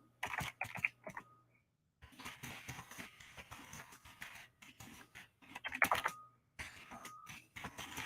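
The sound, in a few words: typing a message on a computer keyboard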